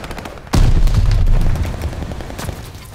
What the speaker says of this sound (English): We've got a mortar barrage.